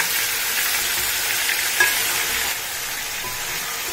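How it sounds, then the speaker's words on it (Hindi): Meat for Delhi nihari sizzles loudly and continuously in a pot, a dense frying hiss with a faint stirring scrape, no talking. "हमारा जो गोश्त है ये तकरीबन काफ़ी भुन चुका है"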